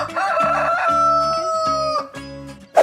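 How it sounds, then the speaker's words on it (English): A rooster crows in a 3D animal video game, one long, loud cock-a-doodle-doo lasting most of two seconds, followed by a short sharp note right at the end. "Chicken."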